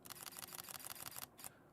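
An OM System camera in Handheld Starlight mode fires a rapid burst of shutter clicks, a fast, crisp mechanical rattle close by, then a couple of final clicks as it stops.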